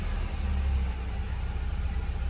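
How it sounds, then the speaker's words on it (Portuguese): A car engine runs steadily after an alternator repair that fixed a battery drain and a lit battery warning light, a low, even hum close by with one slight swell early and no voices. "o motor já está funcionando, tá? Percebam aqui, ó, conta-giro aqui funcionando, ó. Quando eu acelero, o giro sobe."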